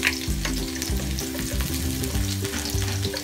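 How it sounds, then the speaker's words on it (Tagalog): Garlic fries in hot olive oil for homemade pizza sauce, giving a steady, close sizzle and crackle throughout, with a faint tonal background underneath. "So, pinainit na po natin ang ating olive oil. Lalagay na po natin ang ating bawang."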